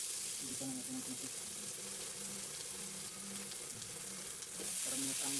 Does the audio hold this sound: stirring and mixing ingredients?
yes